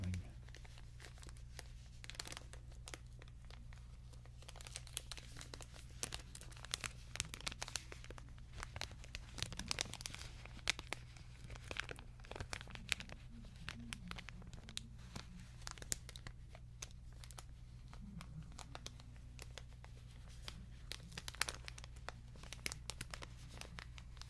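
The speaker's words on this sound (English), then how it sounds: "we'll move on to one of the other bits of crinkling" Soft crinkling and crumpling of material goes on for a long stretch, with irregular papery crackles and small tearing-like bursts, quiet and close.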